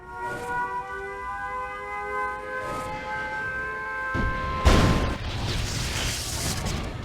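A nuclear missile strike in the real-time strategy game Yuri's Revenge lands with a loud, rumbling explosion and crash after a sustained ringing bell-like alarm tone, the blast roaring on to the end of the clip.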